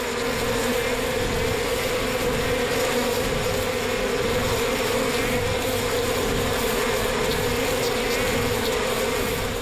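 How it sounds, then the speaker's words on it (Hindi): Swarm of bees in a jungle, a steady, dense, loud buzzing drone that fills the whole stretch without a break, with no voices over it. "किसी ने मधुमक्खी को छेड़ दिया क्या?"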